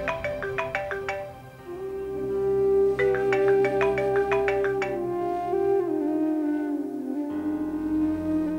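A phone plays a repeated electronic ringtone melody that goes unanswered, bright bursts of tones cycling over a sustained backing tone, loud and close with no voices.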